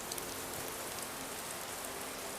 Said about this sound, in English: it started pouring with rain